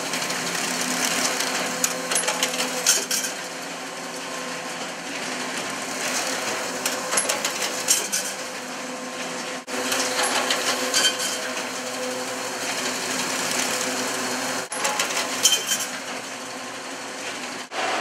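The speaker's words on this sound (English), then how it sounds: "just press go and the machine will print it all out" A printing machine runs off pages for a Corvair parts catalog, giving a steady, continuous mechanical clatter with repeating cycles and brief pauses, fairly loud and close, with no talking.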